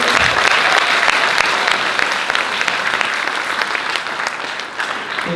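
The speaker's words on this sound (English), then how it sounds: "please give a big round of applause to all of our listeners" Sustained applause from a seminar audience at an anniversary event, dense and steady clapping that fills the whole stretch at close range, with no talking over it.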